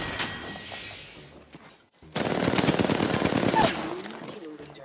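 Rapid automatic gunfire from a carbine in an Apex Legends-style battle royale game, loud dense bursts after a brief lull, with a short quieter stretch near the end.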